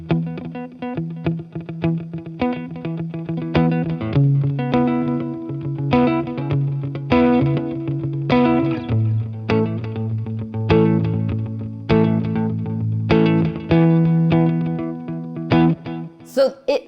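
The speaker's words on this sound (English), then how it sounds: "the effect of delay becomes a huge part of their signature sound" Electric guitar with a delay pedal, each picked note echoing and repeating into a shimmering, continuous wash over a sustained low line.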